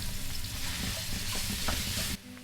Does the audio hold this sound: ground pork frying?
yes